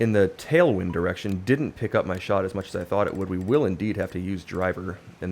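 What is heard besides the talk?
No everyday noises stand out.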